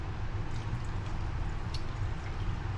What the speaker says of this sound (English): this is going to take several cups of water to make it get filled up